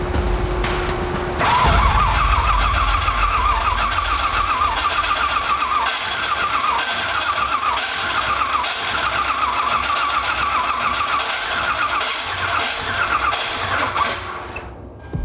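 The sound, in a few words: 6.0 LS swapped Nissan 240SX engine cranking, starting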